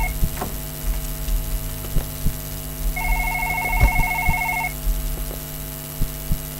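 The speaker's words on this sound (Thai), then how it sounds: "โทรศัพท์โทรศัพท์ห้องเราเนี่ย" A room telephone rings in a horror video game, a steady electronic trill over a low humming ambience and dull thuds, with no talk.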